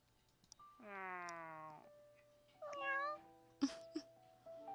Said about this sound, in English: I heard a tiny cat crying from beneath my legs.